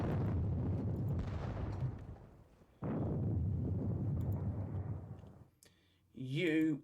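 Howitzer artillery in a video game, two long rumbling booms that roll and fade one after the other, loud and low, with a brief voice at the end.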